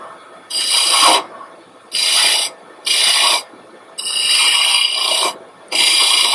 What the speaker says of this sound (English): creating a really deep groove with, I know it's a bowl gouge